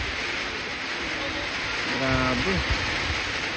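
Heavy storm rain pours in a steady, dense hiss throughout, with a brief voice speaking over it.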